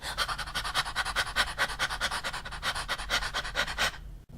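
Rapid rhythmic panting from a person doing a voice-lesson breathing exercise, a steady train of quick, breathy dog-like puffs, close and fairly loud, with no talking, ending abruptly.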